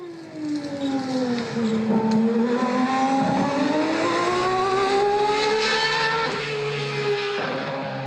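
A 1/32 scale Aston Martin Valkyrie hypercar slot car whines steadily along the track, its motor pitch sweeping up and down through the corners, loud and close with no talking.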